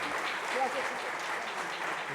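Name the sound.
audience applause for the quartet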